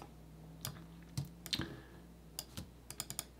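Close, light clicks and taps from typing on a computer keyboard, arriving as scattered single keystrokes and short quick clusters over a quiet background.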